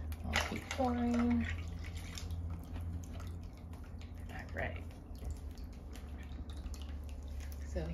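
Cleaning vinegar is poured from a new bottle over seashells in a container, making a soft, trickling splash with scattered drips. A brief voice sound comes through near the start.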